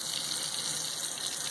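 Water streams steadily from a washed silk garment as it is squeezed by hand, a brief, close, even rush of liquid.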